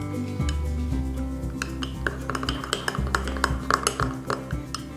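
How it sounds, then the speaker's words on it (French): Spoon stirring banana mug cake batter in a mug, with close, repeated scraping clinks against the sides that grow busier and more rhythmic over a few seconds, no talking. "vous remélangez doucement, parce que là il faut vraiment que tout s'imprègne bien"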